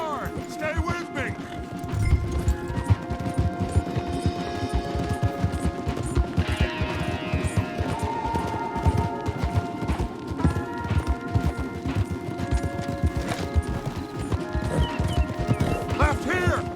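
Horses galloping hard in Red Dead Redemption 2, with steady hoofbeats under a dense game score, faint gunfire and occasional speech throughout.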